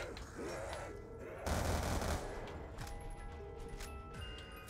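Bursts of M8 rifle gunfire in Call of Duty: Black Ops 2 zombies mode, rapid and loud, with the densest volley in the middle among other game effects.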